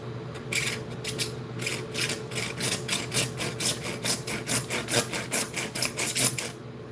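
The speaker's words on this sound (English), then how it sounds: "We don't need much, so we'll just use the handsaw. Cut about a ½ inch into it." A handsaw cuts into a shower drain with a steady series of raspy back-and-forth strokes, close and clear, building into a firm regular rhythm of about two strokes per second.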